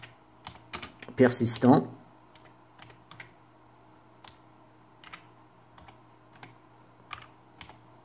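Computer keyboard being typed on while a folder name is entered, a loud burst of keystrokes near the start, then scattered soft clicks and taps over a faint steady hum, with a brief spoken word.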